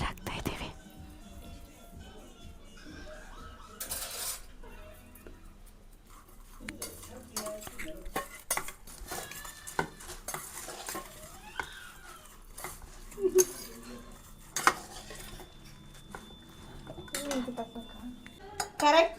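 A spoon scrapes and clinks against a pot while sugar is added and stirred, intermittent metallic taps and rattles close by, with quiet voices and soft laughter in the background.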